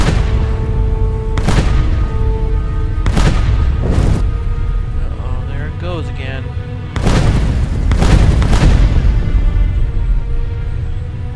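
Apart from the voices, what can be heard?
fireworks-like booms in the video game Neverwinter Nights 2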